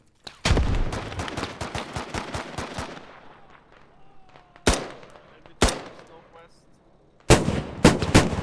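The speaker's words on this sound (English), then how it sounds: "The new gun sounds are meaty" Bursts of heavy gunfire in the video game Squad, a rapid volley of shots at first, then single booming blasts with echoing tails and a final flurry.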